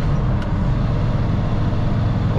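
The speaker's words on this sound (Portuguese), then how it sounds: "O freio motor desse caminhão" A Volvo NL truck's engine brake runs during a descent of a mountain road, giving a loud, continuous, deep rumble that stays steady from start to finish.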